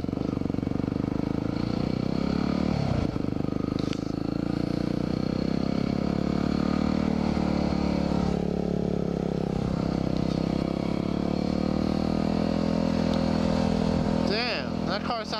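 A motorcycle rides along the road with a steady, loud engine drone close by throughout, the pitch wavering slightly, with a brief rattle near the end.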